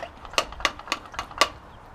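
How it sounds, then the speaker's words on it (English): The hand pump on a Lifesaver 6000 UF water bottle is worked to build pressure, giving five or six sharp, clicking plastic strokes in quick succession, close and fairly quiet. "I'll pump it up a couple more times"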